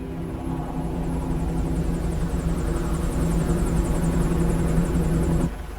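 Helicopter arrives as a steady, loud rotor and engine drone in a film action scene set on a supertanker, with a rhythmic high blade chop running throughout before it cuts off abruptly near the end.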